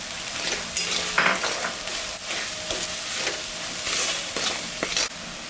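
Salt and turmeric are stirred into a pan of frying ginger, cumin, onion and garlic paste, giving a close, uneven sizzle with intermittent scraping stirs and soft hisses.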